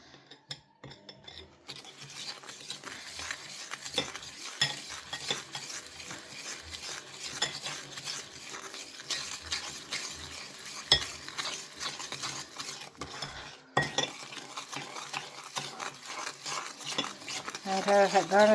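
A coffee and sugar mixture for cappuccino being beaten vigorously by hand in a bowl, with fast, continuous scraping and tapping strokes carrying on for a long stretch at close range.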